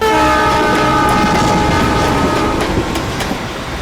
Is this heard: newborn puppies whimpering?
no